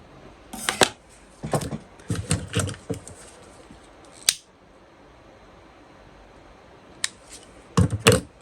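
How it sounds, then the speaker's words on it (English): Scissors snip and trim a zipper while sewing a Bella Bucket Bag, with several short bursts of close cutting clicks separated by pauses, then a final quick cluster of snips. "I'm just going to go ahead while I'm here and trim my trim my zipper"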